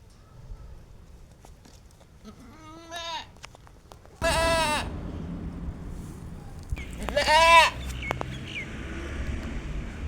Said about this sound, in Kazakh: Өте сүтті ешкінің баласы өзі.